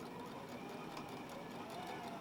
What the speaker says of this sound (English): now you have to use the foot pedal on the ground to control its stitching